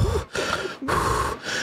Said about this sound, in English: You're going to be hearing me breathing.